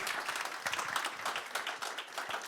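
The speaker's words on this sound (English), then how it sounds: "I think we should all give her a round of applause for doing it" A roomful of people at a Nigerian government programme launch during UNGA78 claps for the minister, with dense, steady applause lasting throughout at moderate level and no talk over it.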